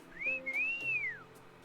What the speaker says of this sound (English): we can actually hear the whistle